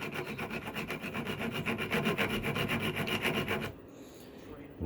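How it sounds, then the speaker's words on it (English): Hand file rasping across a metal 12mm hex RC axle for an Rc4wd Bruiser, with steady rhythmic back-and-forth strokes, close and loud, stopping abruptly near the end. "it'll keep it flat all the way across as we're filing this axle to match"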